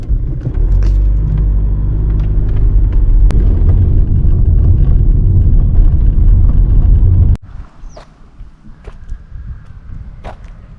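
A car drives along Latvian country roads, a loud, steady engine and tyre rumble close by for several seconds that cuts off abruptly, leaving faint scattered clicks and light ambient sounds.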